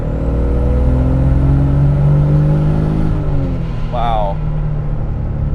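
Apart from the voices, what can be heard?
twincharged Toyota 1JZ engine with Mercedes supercharger revving under boost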